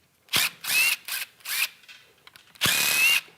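An impact or power tool loosening valve body bolts on a 4L60E automatic transmission during a teardown, heard as four short close whirring bursts followed by a pause and one longer burst.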